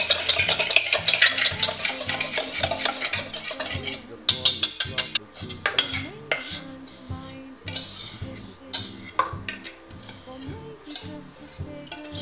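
Bath bomb powder is stirred in a big bowl, producing repeated gritty scraping and swishing strokes in a steady rhythm, with occasional light clinks of a utensil against the bowl, close up and alone.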